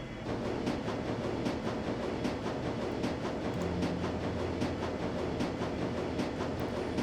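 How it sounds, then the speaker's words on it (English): A train rumbles steadily through a Berlin-bound journey in the Shadowrun: Dragonfall game, a continuous dense rolling roar with faint rhythmic wheel clatter throughout, no voices. "the train rumbles its way toward Brandenburger Tor"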